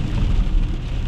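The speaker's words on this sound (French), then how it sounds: "Là, on est dans la pluie grésil." Freezing rain and sleet on a car driving over icy roads at about minus one degree, heard as a steady, loud rumble and hiss of tires and precipitation with no talking.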